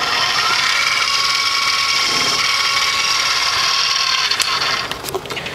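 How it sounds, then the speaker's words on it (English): A Micromark 7x14 mini lathe runs with a steady high mechanical whine while chamfering a hole in a boring bar holder, close and continuous, with a few small clicks and scrapes toward the end. "And I'm going to chamfer the hole"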